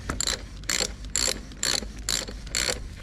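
Ratchet wrench snugging a steering shaft bushing bolt on a Grizzly 700 ATV, six quick clicking bursts in a steady rhythm, close and fairly loud with no talking.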